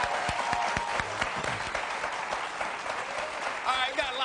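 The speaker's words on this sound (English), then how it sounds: "Please give my panel a round of applause," A studio audience applauds a panel on an ESPN sports talk show, with sustained, dense clapping that stays loud and even and a voice briefly heard over it.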